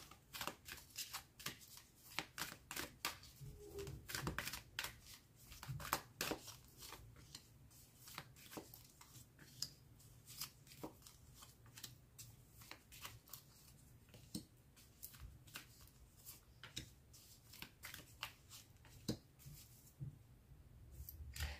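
Tarot cards being shuffled for a new draw, faint rapid riffling and flicking in repeated bursts across a quiet room.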